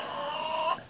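Chickens in a backyard coop shared with rabbits give a short burst of clucking, close and fairly loud, with no talking over it.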